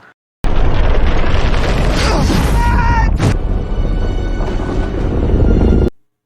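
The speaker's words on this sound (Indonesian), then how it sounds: "Andy melihat pesawat induk yang terjatuh, mengakibatkan ledakan yang sangat dahsyat." A huge explosion as a crashed mothership hits the ground in a science-fiction film, a loud sustained roaring blast with rumbling debris and a sharp crack partway through, cutting off abruptly.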